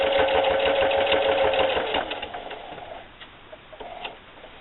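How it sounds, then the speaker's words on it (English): A sewing machine stitching binding onto a quilt runs in a fast, even whir for about two seconds, then slows and stops, leaving faint ticks and handling noises. "and then just keep sewing"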